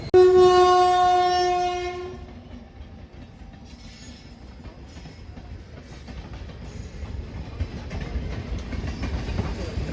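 The Howrah–New Delhi Rajdhani Express 12305 via Patna pulls in with a loud, sustained horn blast, then a steady rumble of wheels and carriages rolling past a platform.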